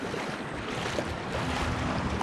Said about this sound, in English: This water chop is filthy.